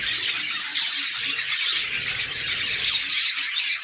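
Small birds and little parrots chirp and tweet continuously, a dense, bright chorus of overlapping calls that stays fairly loud and steady throughout, with no talking.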